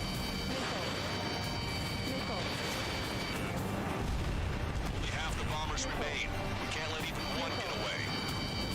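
Radio voices and cockpit warning tones run over a constant heavy roar of jet flight in Ace Combat 7, with rumbling blasts and crashes mixed in that could be missile launches and explosions.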